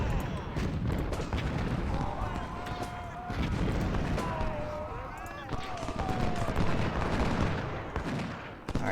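Artillery and musket fire in the Civil War strategy game Ultimate General: Civil War, a dense continuous battle din of booms and crackling volleys with tonal whistles of incoming shells, while someone talks over it.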